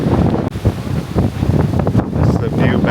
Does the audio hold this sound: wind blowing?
yes